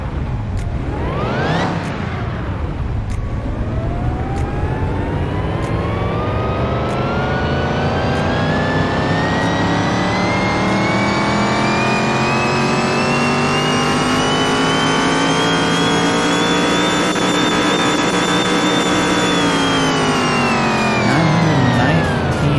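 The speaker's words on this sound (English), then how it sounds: "Let's see what we can get out of this V8 supercharged engine." A supercharged V8 in a Tempest Magnum muscle car in Car Mechanic Simulator 2021 revs hard on a dyno. It sweeps up quickly, dips, then climbs and holds a loud, sustained high-rpm howl before easing off, with no talk.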